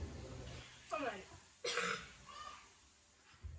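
Two or three short coughs from a person during a Christian family study talk, fairly close and separated by pauses, with quiet room tone between.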